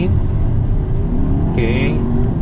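Volkswagen Arteon R-Line sedan, 2020 model, under full throttle during a single lane change test: a steady, loud engine drone with road and cabin rumble throughout, a brief higher tone near the end, and a voice speaking over it.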